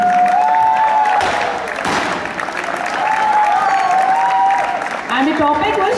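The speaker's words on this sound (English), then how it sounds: "A big round of applause for these young talent people." Audience applause at a school student awards event, a steady broad wash of clapping with some cheering that dips briefly mid-way, while a voice talks over it with a sustained tone running underneath.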